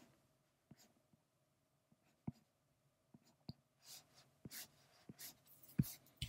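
Pencil sketching short lines on paper for a character drawing: faint, close scratchy strokes in irregular bursts, growing busier toward the end, with no talk.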